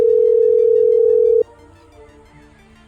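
A phone call's ringback tone: one long, steady, loud electronic note holds for about a second and a half, then cuts to a quiet line before the next tone starts briefly at the end, with no voices.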